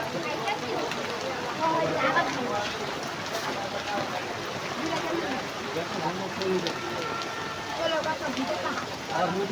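Heavy rain falls in a steady, dense wash of noise that stays even and close throughout, with voices audible faintly underneath.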